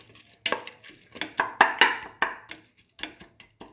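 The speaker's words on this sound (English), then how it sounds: "Thoroughly salt and mix." A spoon scrapes and turns salted split mung beans with tomato rice in a metal pot, a series of about eight sharp strokes with short pauses between them.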